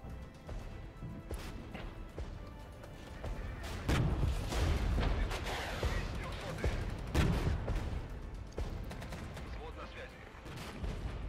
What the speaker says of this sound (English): I'm bringing in a lot of artillery on that position.